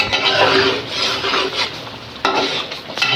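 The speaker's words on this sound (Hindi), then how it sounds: "और इसको अच्छी तरह से भूनेंगे।" Mutton chops being fried and stirred with korma masala in a pot, giving a continuous scraping, rasping stir with a light sizzle underneath and a couple of sharper spoon scrapes, close and moderately loud.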